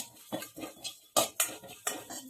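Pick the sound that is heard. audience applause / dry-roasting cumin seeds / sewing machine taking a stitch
dry-roasting cumin seeds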